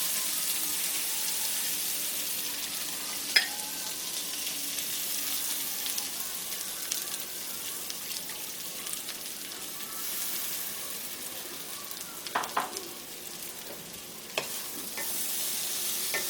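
Flattened rice with fried vegetables is stirred in a pan over a raised flame, giving a steady soft sizzle with occasional sharp scrapes and clicks of the spoon, loudest around a few brief strokes.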